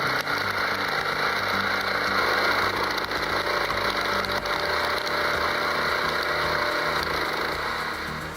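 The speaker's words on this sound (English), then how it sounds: "Fueled by a 13 HP engine and 80L hydraulic tank, this splitter crushes hardwoods clean through." A 13 HP hydraulic log splitter engine with an 80-litre hydraulic tank, running loud and close with a steady droning roar while splitting hardwood, fading slightly at the end.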